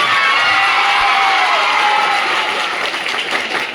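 Dense, loud crowd applause mixed with cheering and children's shouts fills a school Children's Day celebration at Mirdahapali High School, a steady roar of clapping and whoops without a break.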